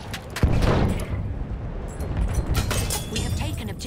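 Rapid bursts of machine gun fire in a battlefield shooter game, loud and close at first, then continuing as a dense crackle of gunfire and blasts.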